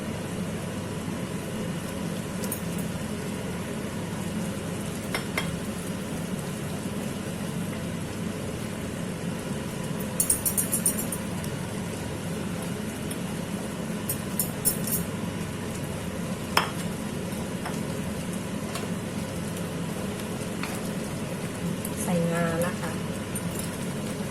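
A spoon stirs satay dipping sauce in a pan with a soft continuous scraping and faint sizzle, while someone talks over it throughout, with occasional light clinks of utensils.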